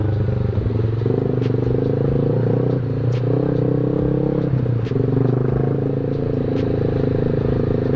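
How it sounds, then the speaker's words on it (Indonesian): A Yamaha Jupiter MX motorcycle engine runs loud and close while riding, its throbbing drone dipping and catching in a few uneven stumbles amid road clatter. "Ini motor gue mulai ngendat-ngendat lagi nih rasanya."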